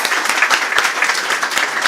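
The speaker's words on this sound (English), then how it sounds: "I just first of all wanted to ask you to do a big round of applause tonight" An awards-night audience breaks into a dense, steady round of applause, many hands clapping loudly and continuously, with no voice standing out.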